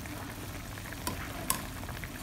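Food frying in a pan with okra cooking nearby, giving a constant crackling sizzle with two brief sharp clatters from utensils.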